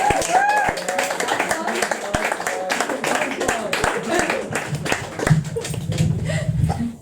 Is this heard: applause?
yes